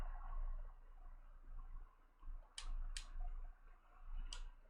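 Several separate crisp clicks from a controller while typing on a PS4 on-screen keyboard, spaced irregularly, close and fairly quiet over a low steady hum.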